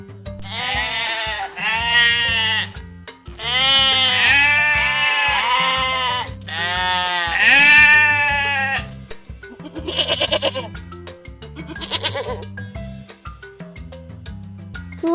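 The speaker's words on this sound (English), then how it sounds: "I am a goat." A goat bleating in several long, wavering calls one after another, loud and close over a bouncy children's music backing, followed by a couple of shorter cries.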